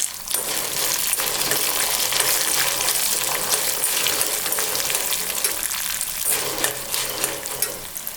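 Urad dal with three garlic cloves and two pieces of ginger fry in a pan for beetroot chutney, a steady, dense crackling sizzle that holds fairly loud throughout with small clinks from the utensil.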